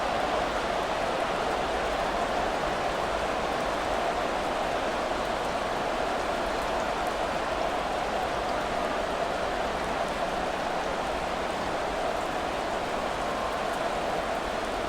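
Steady rain hiss from the Madden 24 football game on a wet afternoon at Lincoln Financial Field, Cowboys versus Eagles; a continuous, even wash of rainfall noise with no breaks and no talk.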